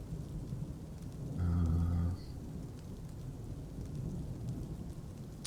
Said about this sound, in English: Also very cool thunder sounds.